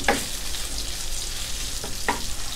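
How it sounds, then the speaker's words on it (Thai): Pork belly fries in a pan with a steady, close sizzle and a few sharp spatula clicks against the metal, no voices. "เพื่อนๆต้องให้หมู3ชั้นเราสุกระดับนี้เลยนะครับให้แบบว่าตัวมันเขาเนี่ยออกมาเลยนะครับ"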